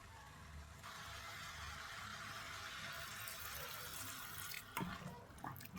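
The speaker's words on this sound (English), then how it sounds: "Let's add some water." Water runs from a kitchen tap into a cooking pot in a steady, close rushing stream, with a couple of brief clanks near the end.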